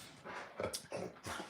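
A dog whimpers and whines in several short, faint bursts close by, on the edge of breaking into barks, with no talk over it.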